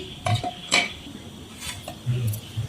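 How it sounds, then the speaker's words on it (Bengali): A cover lifted off dough resting for ten minutes in a home kitchen: a few brief, close clinks and scrapes, spaced apart, with no talking. "তো 10 মিনিট পর চাপাটা সরিয়ে নিচ্ছি।"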